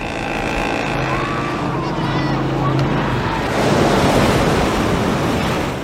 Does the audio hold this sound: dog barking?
no